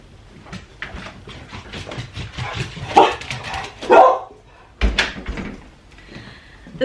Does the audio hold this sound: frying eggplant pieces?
no